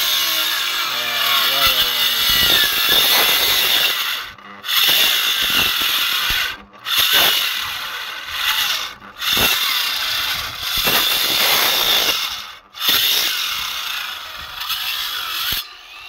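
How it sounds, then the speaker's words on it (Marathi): A cutting machine saws through wooden planks at a building site, a loud, harsh whining buzz in long repeated bursts separated by short pauses. "मशीनने कटिंग करतात बघा"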